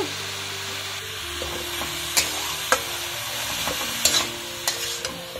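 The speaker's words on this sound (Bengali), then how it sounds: "ভালো করে গাজরটাকে নাড়াচাড়া করতে হবে" A spatula stirs carrots with salt and turmeric in a pan: a low frying hiss with several sharp scraping strokes against the pan, close and distinct, with no voices.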